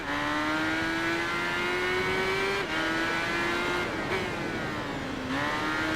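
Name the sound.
BMW K1200R motorcycle engine in the video game Tourist Trophy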